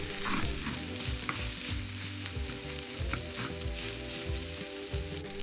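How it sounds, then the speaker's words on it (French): Kimchi fried rice sizzles and crackles in an oiled wok while being stirred and tossed, a dense, continuous frying hiss up close with scraping strokes, over soft background music. "On fait revenir le tout."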